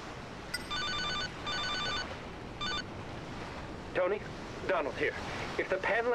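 In Grand Theft Auto: Liberty City Stories, an electronic phone trills in three short bursts of rapid ringing over a low ocean-like ambience, and voices follow afterward.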